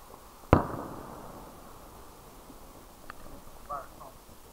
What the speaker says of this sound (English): Okay, that is the fireworks.